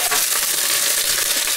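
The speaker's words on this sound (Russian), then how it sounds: "5 минут мы обжариваем, после этого добавим томатную пасту" Onion and garlic frying in a pan, a steady close hiss and crackle that runs without break.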